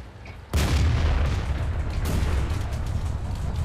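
A tank gun fires in the World of Tanks video game, a sudden loud boom that breaks in after a quiet half-second and then rolls on as a heavy, sustained rumble.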